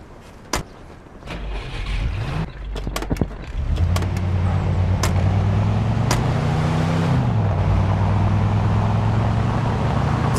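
A car in the Mafia 2 video game starts up and pulls away. A door clunks and a few clicks come first, then a steady engine drone rises, shifts pitch once and carries on loud and close, with no talk.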